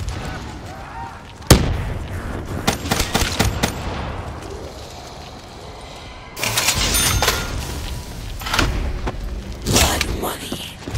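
A grenade blast and bursts of gunfire in the zombies mode of Call of Duty: Black Ops III, with sharp loud cracks and booms at intervals over a dense, noisy game mix where voices are heard.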